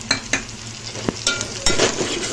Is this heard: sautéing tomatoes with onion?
yes